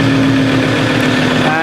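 A car engine cranks and catches using a newly duplicated key in the ignition, settling into a steady close idle with a low hum and faint rising tones near the end, with people talking over it.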